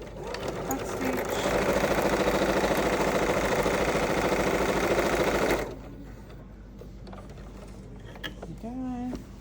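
A sewing machine back stitching a fabric bowl, a steady fast mechanical whirr running loud and close for several seconds before stopping, followed by quieter handling and a brief voice.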